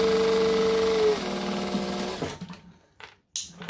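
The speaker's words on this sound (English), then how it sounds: "you can just do what I'm gonna do and just sew it" A sewing machine stitches a zipper pocket shut on a bowler bag, running steadily and loud for about two seconds, then stopping, followed by a few faint handling clicks and rustles.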